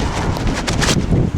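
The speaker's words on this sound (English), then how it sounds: "Oh, rain. It's horrible." Rain falling on an outdoor camera at night beside a road, a dense, close hiss and patter with buffeting wind noise against the microphone, no talking.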